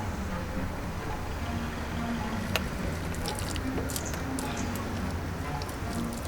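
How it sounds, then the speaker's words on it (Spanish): Water runs steadily through an overflow drain hole in a backyard fish pond, a constant close wash of trickling and splashing with a few brief droplet ticks. "a medida que entra agua a nuestro estanque, pues se va yendo por el orificio"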